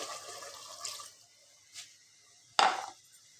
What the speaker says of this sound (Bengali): তো দেখতে পাচ্ছেন আমি ঝোল দিয়ে দিছি।